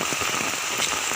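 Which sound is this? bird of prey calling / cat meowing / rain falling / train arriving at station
rain falling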